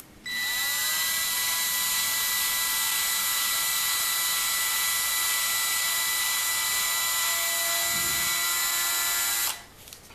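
A high-pitched drill whines steadily for about nine seconds boring into the plastic of a Lego pneumatic switch, then stops abruptly, with a faint knock near the end.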